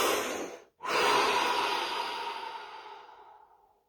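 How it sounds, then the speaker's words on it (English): One long, close breath during a relaxation exercise: an airy inhale, a short pause, then a slow audible exhale that fades gradually into silence. "Deep breath."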